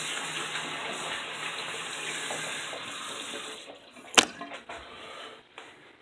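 A water tap runs steadily into a sink while hands are rinsed of hair styling product, the stream close and constant before it is shut off around four seconds in, followed by a few drips and small clatters.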